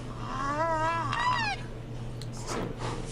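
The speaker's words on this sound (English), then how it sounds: "Here's some rhinos making noises." Rhinos squeak in a rising and falling series of thin, high calls during the first second and a half, followed by fainter scattered noises over a steady low hum.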